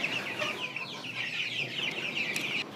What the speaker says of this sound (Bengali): টাইগার মুরগির বাচ্চা রয়েছে।